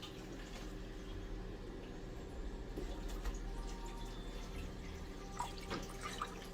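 Water poured from a cup into a cooking pot for Shin noodle soup, a quiet, steady splashing trickle lasting several seconds, soft and close with a faint low room hum underneath.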